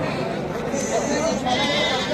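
A goat bleats briefly at a busy village animal market in Rajarampalli, partly buried under a dense crowd of voices and general market bustle.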